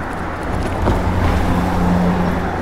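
Road traffic noise heard from a Wing Freedom X.2 e-bike while merging into traffic on pedal assist four, a steady low rumble of passing cars with the hum of a vehicle building briefly near the rider.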